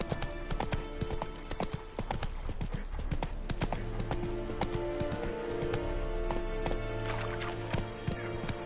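Roach the horse's hooves clip-clop steadily in The Witcher 3 on PS5, a loud, continuous rhythmic gait layered over in-game music and ambience.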